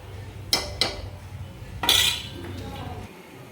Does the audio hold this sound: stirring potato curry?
yes